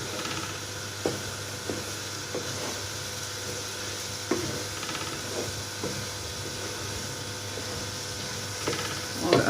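Ghiya (bottle gourd) bhujiya with green chillies being stirred in a hot pan, a steady sizzle and hiss running throughout, with occasional scraping knocks of the spoon against the pan.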